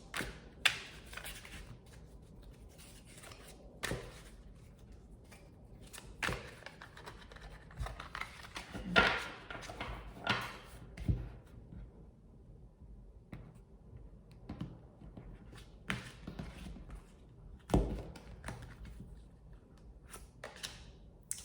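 Tarot cards being shuffled give soft, scattered riffling and tapping bursts at close range, irregular and faint against a quiet room.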